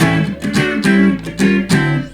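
Thin, nasal tone from an Ibanez Roadstar II RS135 electric guitar with two pickups out of phase, several strummed chords ringing in a short rhythmic phrase, close and loud, no voices.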